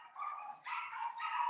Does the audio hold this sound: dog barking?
yes